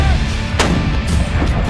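A single heavy artillery gun fires on the gun line as the lanyard is pulled, a loud sharp boom near the mic under continuous wind and rumble, with faint voices around it.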